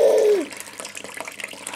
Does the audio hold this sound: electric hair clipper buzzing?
no